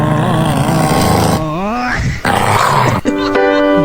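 A dog growling and whining in loud, close bursts with gliding, strained pitch, over a busy background of other sound.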